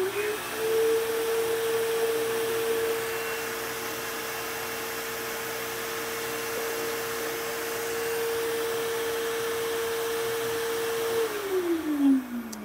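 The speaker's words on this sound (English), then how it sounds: "So now if we power on the vacuum, we should see how much power it's drawing." A shop vacuum powering a boosted dust collection setup whines steadily at a constant pitch under a broad rush of airflow, then winds down with a falling tone as it switches off.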